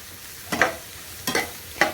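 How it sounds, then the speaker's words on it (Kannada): Food frying in a pan over a low flame, with three short bursts of stirring and sizzling against a quiet background, close and moderately loud with no talk. "ಇದನ್ನು ಗಾಯ್ಸ್ ನೀವು ಕಡಿಮೆ ಫ್ಲೇಮಲ್ಲಿ ಫ್ರೈ ಮಾಡಬೇಕು"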